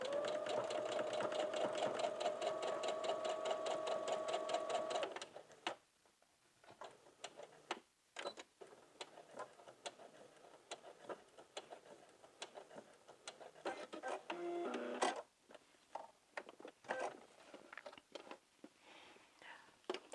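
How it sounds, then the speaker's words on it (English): A sewing machine stitches a seam straight across the raw edges of McCall's 7906 pattern pieces, whirring steadily for about five seconds, then falls quiet to soft handling and fabric rustles. "we're going to sew that seam in"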